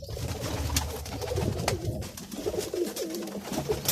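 Pigeons coo steadily in a loft of kept breeds, low rolling calls layered close and continuous over a soft rustling background.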